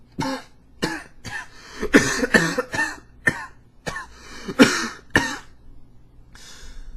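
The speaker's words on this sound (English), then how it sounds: "How long have you had that cough?" A series of harsh, hacking coughs, about a dozen, come in uneven bursts and clusters with short pauses between them, close and loud.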